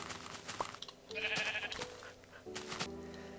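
Minecraft sheep bleat a few times in short, fairly faint calls, set against quiet game ambience with soft footsteps and clicks.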